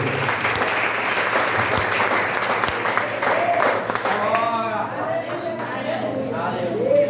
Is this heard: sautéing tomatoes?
no